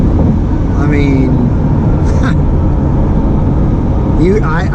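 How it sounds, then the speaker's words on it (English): Loud, steady engine roar from inside a moving mid-engine C8 Corvette at night, constant throughout, with faint voices briefly heard over it. "I hope you guys can hear the engine."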